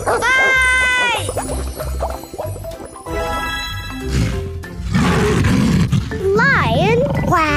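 A lion roars in a children's animal learning game, a loud growling roar among playful sound effects and music, with a voice speaking and squealing nearby.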